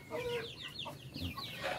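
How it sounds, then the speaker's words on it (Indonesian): Chickens in a village yard cluck busily while being fed leftover, partly burnt rice from the night before, a steady overlapping chatter of close calls and chirps. "emak tuh lagi mau ngasih makan ayam tuh, bekas nasi yang tadi malam"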